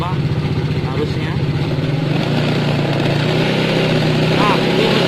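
A motorcycle engine revs under throttle while its battery charging current is measured, a steady loud close-up drone that builds slightly in pitch, with someone talking over it.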